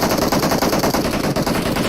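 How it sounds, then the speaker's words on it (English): Dense, continuous automatic gunfire from players shooting at each other in a PUBG Mobile battle royale match, loud, rapid and steady throughout with no talk over it. "the players shooting against each other"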